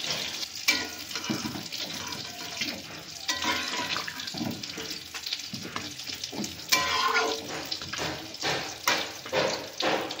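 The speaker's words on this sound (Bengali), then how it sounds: "আমি গরম জল দিয়ে দিলাম।" Hot water poured into a pot of mutton cooking for an Indian-style dish, giving a steady watery splash and sizzle with scattered clinks and stirring, close and fairly loud throughout, with no talking.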